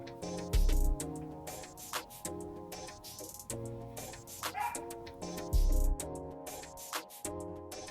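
A dog barks repeatedly indoors, with two deeper close barks among a string of yips and whimpering calls, heard over steady background music.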